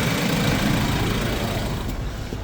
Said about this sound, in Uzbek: Motori ham sodda ishlab turibdi, top-toza.